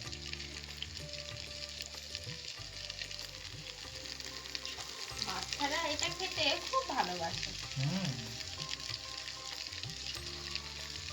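Chicken pakora fries in oil for dry chilli chicken, producing a soft continuous sizzle at low level with a steady bubbling texture and a few faint tonal background sounds, no talking.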